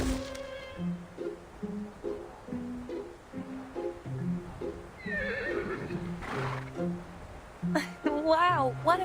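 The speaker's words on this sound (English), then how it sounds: "Sounds like a horse to me." A horse whinnies in a video game, its call rising and falling over a plodding musical backdrop, followed by a second sharp neigh near the end.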